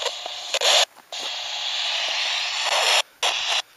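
Radio receiver static during direction finding, a loud steady hiss that cuts out briefly several times and then returns at full strength, with no voices.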